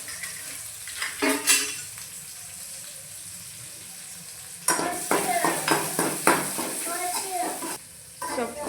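Cumin and a single onion hit hot oil in a pan for egg sukka, a quiet sizzle building to a burst of crackling and frying with scraping stirs and a few clinks of utensil on metal.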